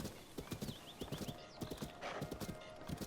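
A horse gallops in Zelda: Tears of the Kingdom, its steady clip-clop hoofbeats repeating quickly and fairly loud throughout, with a brief whinny and other game sounds in the background.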